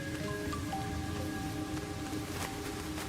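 Steady, soft rain patters continuously over a low ambient hum, with faint tonal hints in the background, in the video game Rain Code.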